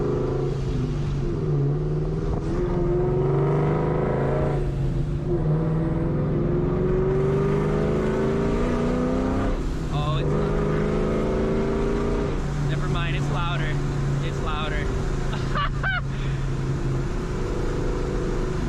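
A supercharged 2004 Ford Mustang GT with a Borla ATAK catback exhaust, X-pipe and Vortech supercharger idles and revs up in several rising pulls, with a loud close rumble and supercharger whine, and voices talking over it.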